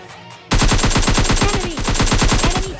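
Rapid automatic gunfire in the mobile shooter PUBG Lite, a dense string of loud, close shots in steady rhythm that bursts in suddenly after a brief quiet and keeps firing without pause.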